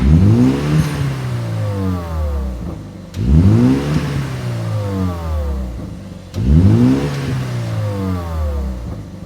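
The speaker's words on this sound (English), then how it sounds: "I've also popped on the Miltech exhaust system. This is just the OPF back system with the Cerakote black tips" A BMW F70 M135 with a Miltech OPF-back exhaust and black Cerakote tips revs hard three times in a row, each loud rising roar falling away before the next, close to the tailpipes.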